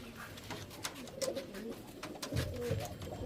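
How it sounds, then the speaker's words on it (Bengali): Pigeons of the Andhra breed coo in a loft, low soft calls rising more clearly near the end over steady background chatter and rustle. "এই দেখুন পায়রা দেখুন"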